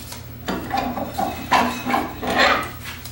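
Wood edge of a small photo holder being sanded with 400-grit abrasive, a few short, soft rasping strokes up close, with faint knocks and a low background hum.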